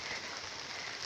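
Rain falling outdoors in a green natural spot near a temple, a soft, even hiss that stays faint and unbroken, with no voices.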